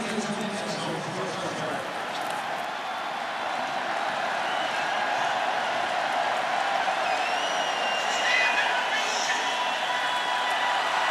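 Huge football stadium crowd at a North Carolina versus Virginia Tech college game, enraged and excited, roaring in a dense, continuous wall of noise that stays loud throughout, with a faint voice buried underneath.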